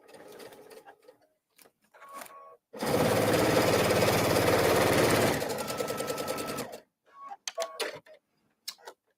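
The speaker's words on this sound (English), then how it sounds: "you're sewing the two pieces together" Sewing machine joining two fabric pieces for half-square triangle quilt blocks, running in one loud steady burst of rapid stitching for about four seconds, with quieter clicks and handling noises before and after.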